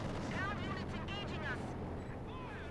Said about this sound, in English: Got a Katyusha fire in the centre